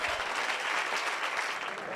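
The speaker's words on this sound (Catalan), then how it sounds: "els aplaudiments no han de ser per nosaltres" Dense, continuous applause from an audience at a Catalan political gathering fills the short stretch, loud and unbroken with no voices over it.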